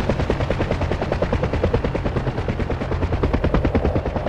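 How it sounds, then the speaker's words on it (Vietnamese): Weapons firing from a UH-1 gunship helicopter: rapid, evenly spaced bursts of automatic fire, loud and continuous, mixed with the chopping beat of rotors. "Bây giờ chúng ta cùng xem uy lực vũ khí trên trực thăng UH-1 nhá."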